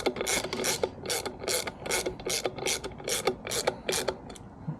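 Regular ratcheting clicks from tightening the disc brake screws on an electric bike hub motor, about ten quick bursts in an even rhythm, close and fairly crisp over faint background.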